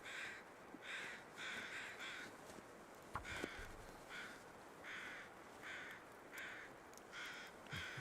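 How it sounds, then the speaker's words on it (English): Crows caw repeatedly in The Long Dark, a snowy survival video game, their harsh calls coming in regular bursts over a steady wind-like background, moderately loud and with no talking. "Pesky birds. They are pesky birds."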